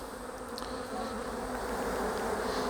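Honey bees on a capped hive frame create a dense, continuous buzzing drone, loud and close. The sound stays steady throughout with no talking.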